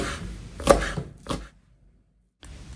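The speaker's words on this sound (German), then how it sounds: "Jetzt schneide ich noch die Frühlingszwiebel." Spring onions are chopped with a knife on a board: two or three quick rhythmic bursts of cutting, then a pause and another stroke, close and fairly loud, with no talking.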